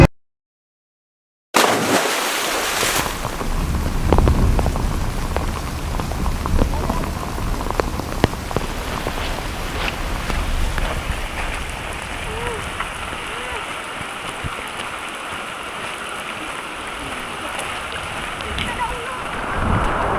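Heavy rain pours down in a dense, steady roar close by, with occasional sharper spatters and rumbling low thuds beneath it, continuing without a break after a brief silence at the start.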